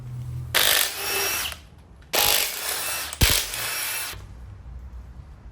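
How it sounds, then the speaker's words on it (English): Power tool, likely an impact gun, removing crank bolts from a failed boosted engine: three loud close bursts of whirring and rattling, each about a second long, separated by short pauses. "We're gonna go ahead and get the crank bolts out."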